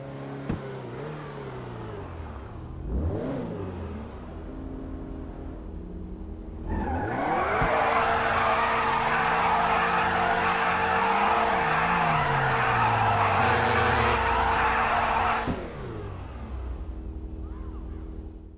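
A Grotti Cheetah Classic in GTA V revs its engine and skids, tires squealing in a long, loud, sustained screech over the rising and falling engine note before easing off.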